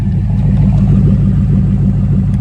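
A car engine idles steadily and loud close by after clutch and oil pan work. The low, even rumble carries a faint rhythmic tick throughout.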